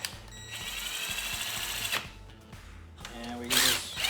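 A speed wrench spins bolts in during a limited slip differential install, giving a steady close mechanical whirring with a ratcheting buzz for about two seconds. A short louder burst of turning follows near the end.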